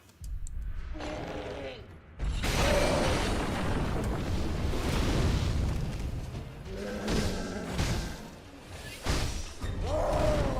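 Firecrackers burst in Sekiro, making loud crackling blasts that roll on for several seconds, with further pops later over game ambience.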